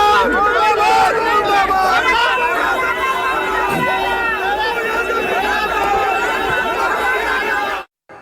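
Crowd of hundreds of supporters protesting outside Pappu Yadav's house after his arrest, a loud dense hubbub of many voices shouting and chattering close by, continuing steadily before cutting off abruptly.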